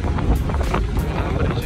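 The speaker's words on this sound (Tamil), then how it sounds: "இந்த போட் வழியா நம்ம வந்து க்ரூஸுக்கு போகிறோம்." A boat carries passengers out to a casino cruise ship in Goa, its low rumble and rushing water buffeted by heavy wind noise across a brief, loud moment.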